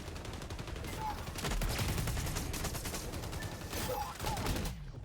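Rapid bursts of gunfire from the shooter video game XDefiant, a dense, loud stream of shots filling most of the moment before cutting off abruptly near the end, with a voice briefly audible beneath.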